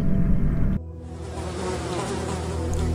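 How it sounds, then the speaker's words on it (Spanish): Swarm of bees near their hive, a dense continuous buzzing drone that shifts character after a low rumble at the start, steady and fairly loud with no voices. "Quizás has visto un enjambre de abejas y cómo son de numerosas cerca de su panal"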